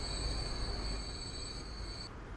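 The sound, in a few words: goods train arriving at station in video game Transport Fever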